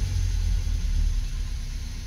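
A Lancia Fulvia engine runs at a steady, low idle close by, a continuous rumble with a faint hiss and no voices.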